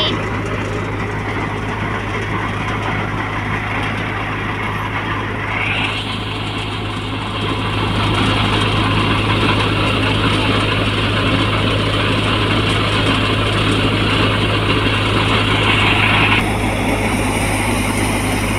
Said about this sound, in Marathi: ज्वारी भरडायची मशीन चालू झालेली आहे